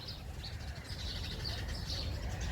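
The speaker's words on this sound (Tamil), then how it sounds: "இந்த பறவைகளோட வந்து இறைவனின் சங்கீதம் இல்ல, அது இறைவன் படைத்த அற்புதம்." Birds chirp and call outdoors during a weekend walk in Umm Al Emarat park, Abu Dhabi, with bright repeated tweets over steady low background noise and no talking.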